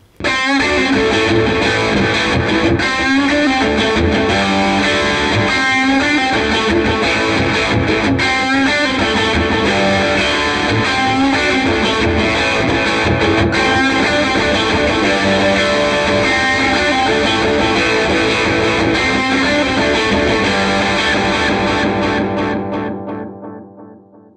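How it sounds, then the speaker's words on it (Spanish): An electric guitar runs through a delay placed ahead of a distortion effect, giving a loud, dense, saturated tone whose echoes smear together continuously for over twenty seconds before cutting off abruptly. "la distorsión lo que suele hacer es cambiar mucho la mezcla del delay cuando el delay está antes"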